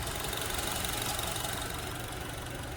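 A clean 2.4-liter engine in a 2010 Honda CR-V idles steadily, heard up close as a constant, fairly loud mechanical hum with a light ticking texture and no voices.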